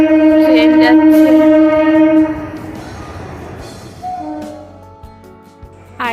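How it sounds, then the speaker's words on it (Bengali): A passing train sounds its horn in long tonal blasts, then the rolling clatter of wagons fills the air close by, followed by another horn burst as it moves on. "ট্রেন যাচ্ছে।"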